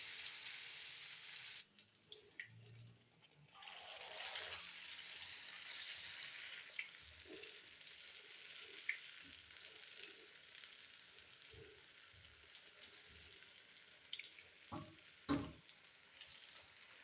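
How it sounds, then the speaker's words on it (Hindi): Small cauliflower kebabs frying in hot oil give a steady broadband sizzle throughout, with a few soft clinks and stirring knocks toward the end. "तो साथ ही हम इसे जो है वो फ्राई करने के लिए डाल देंगे"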